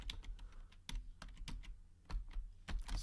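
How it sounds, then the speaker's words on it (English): Rapid, irregular keystrokes on a computer keyboard as a date is typed in, close and clear, clustered in short bursts with brief pauses. "watch what happens when I type in May 7th"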